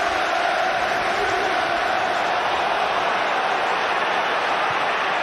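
A football stadium crowd at a 2007-08 Premier League match between Sunderland and Liverpool roars in a dense, continuous wash of cheering and shouting, loud and sustained throughout with no break.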